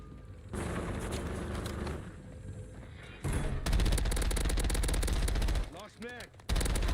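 Bursts of rapid automatic gunfire in a Black Ops battle royale match, loud and sustained with brief pauses, mixed with game effects and a short voice in the middle.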